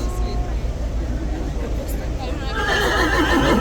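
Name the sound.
horse neighing at Horse Guards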